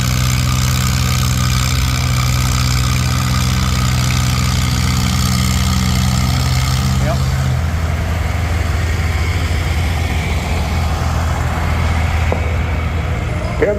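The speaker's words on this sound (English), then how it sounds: "here comes Bob pulling the old D17" An antique John Deere D17 tractor engine at an outdoor tractor pull roars loud and steady throughout, its low heavy drone dropping in pitch partway through as the load changes, with no clear voices over it.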